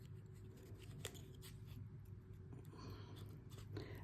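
Faint, close snipping of scissors cutting paper, a series of small irregular clips over a low background hum.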